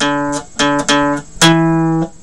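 Guitar riff in D with eighth notes: two sustained notes, then a quick pair of short plucks and a long ringing note, played loud and close with no voice.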